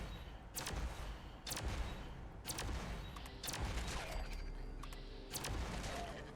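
Gunfire in Fallout 76 arrives as sharp, fairly quiet shots spaced about a second apart, each a short crack over a constant low rumble of game background sound.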